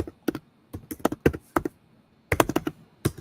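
Typing on a computer keyboard, close clicky keystrokes in quick bursts with short pauses between groups, crisp and moderately loud with no talking.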